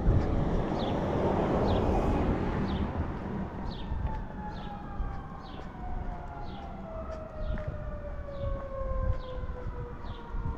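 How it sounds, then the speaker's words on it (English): An ambulance siren wails in the distance, its pitch sliding slowly over several seconds beneath steady outdoor background noise, with faint repeated chirps overhead. "there goes another ambulance up there"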